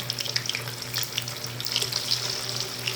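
Tofu frying in hot oil in a home kitchen, a steady close crackling sizzle with dense spitting pops throughout, no talk.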